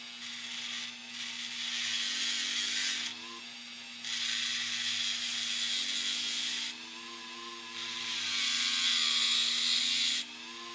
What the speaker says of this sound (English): I'm just going to cut them in half with the Dremel.